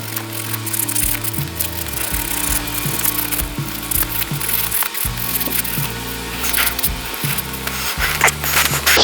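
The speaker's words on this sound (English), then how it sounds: "we got to get a little bit more scrubbing over there on this edge" Sandpaper scrubs back and forth over a VW deck lid latch in quick, repeated rasping strokes, close and steady, with no talking.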